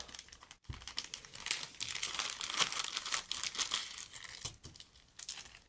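Crinkly plastic packaging around a craft item for making decorative photo albums and frames is pulled open up close, with steady crackling and rustling and a few short tearing bursts.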